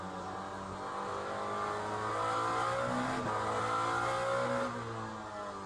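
A race car engine roaring through a lap of Imola in the Le Mans Ultimate simulator, steady high-pitched drone with rising revs and a gear shift midway, loud and continuous with no talk.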